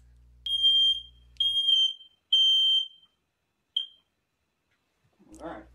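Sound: fire alarm going off

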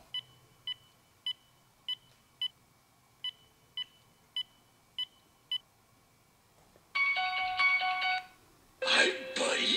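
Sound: phone dialing beeps when calling a number

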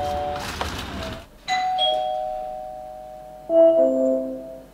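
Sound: Nest Hello smart doorbell ringing on Google Nest Hub

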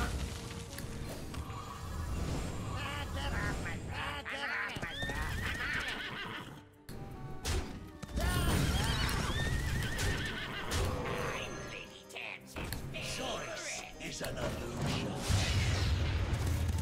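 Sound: horse neighing and hooves in the video game Book of Mercenaries

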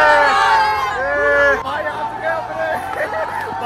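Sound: excited crowd at a Munawar Faruqui fan meetup

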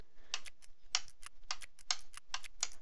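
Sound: clicking a Saitek flight sim panel switch

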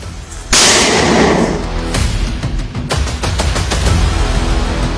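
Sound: artillery gun firing

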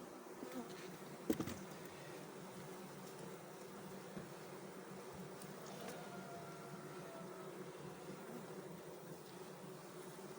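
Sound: buzzing of a honey bee colony in a lounger hive

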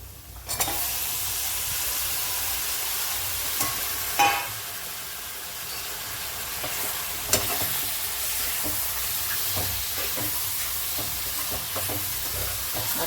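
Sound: mutton added to pan and frying

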